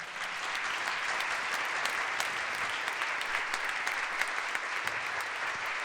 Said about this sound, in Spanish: podéis aplaudir todo el rato